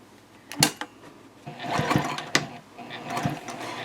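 A sewing machine runs basting stitches on a Betty bowler bag, with short bursts of mechanical whirring and clicking separated by brief pauses, close and fairly loud.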